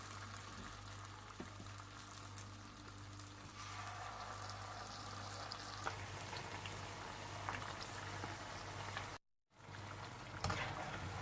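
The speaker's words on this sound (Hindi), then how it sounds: "इसके बाद आप तेल गरम कर लीजिए और खजूरों को बैटर में डालकर तल लीजिए" Batter-dipped dates fry in hot oil, giving a steady, dense bubbling and crackling sizzle throughout, with a brief dropout near the end before the sizzling resumes.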